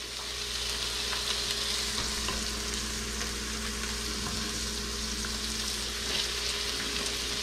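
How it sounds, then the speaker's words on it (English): Onion for cottage pie frying in a pan, giving a steady, even sizzle throughout at moderate level with no speech. "Go ahead and drop in your onion."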